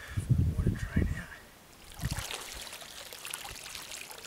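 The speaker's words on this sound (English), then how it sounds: "Water drain out." Water drains out of a fine-mesh net lifted from a farm dam while sampling fairy shrimp and other invertebrates, starting with a low splashing slosh and then a steady, soft trickle and dribble that carries on to the end.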